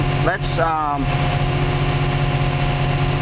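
A Komatsu D61 dozer engine runs loud and steady near at hand, rising briefly in revs with a rising whine before settling back to a constant drone, while someone talks over it.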